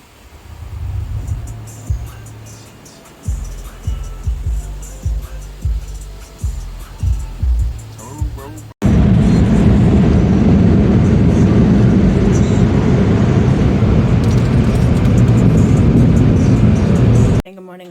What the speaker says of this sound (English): going through the car wash for the first time